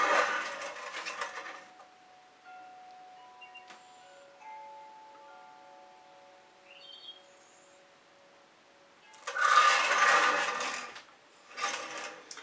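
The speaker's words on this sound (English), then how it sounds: "That turntable is getting worse, I think." A worn, noisy turntable spins during an acrylic pour painting session, giving a faint, thin whine and scattered light clicks between louder rasping bursts at the start, near the end and just after.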